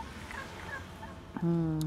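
A short, loud gobbling call from a turkey bursts out at the very end, following a stretch of faint background noise at a market.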